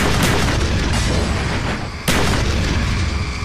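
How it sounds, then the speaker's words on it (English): A Molotov cocktail bursts in Call of Duty Black Ops amid continuous loud combat noise, one sharp boom hitting about two-thirds through and followed by a sustained rumble. "Molotov! At the window!"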